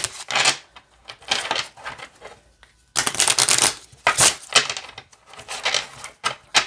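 A deck of cards is riffle-shuffled several times, each shuffle giving a rapid burst of fluttering clicks, with short pauses in between.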